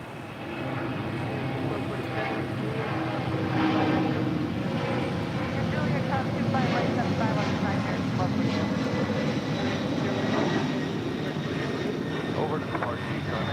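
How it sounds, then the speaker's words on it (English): A Northern Air Cargo Boeing 767-300 converted freighter departs LAX for Honolulu with a loud sustained jet roar and rumbling, steady throughout, while faint voices are heard under the engine noise. "That is Northern Air Cargo 8201 departing to Honolulu on a 767-300 converted freighter."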